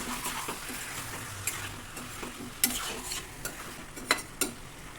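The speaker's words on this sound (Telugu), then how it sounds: "ఈ మసాలాలన్నీ కలిసే విధంగా ముక్కలకి చక్కగా మిక్స్ చేసుకోవాలండి" Chicken pieces stirred and mixed with masala in a hot pan for a green chicken curry, with steady scraping and spoon clinks over a soft, continuous sizzle.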